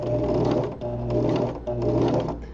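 A sewing machine stitches through strap webbing at a steady, fast clatter, continuous and close, with two brief pauses in the run and no talk over it.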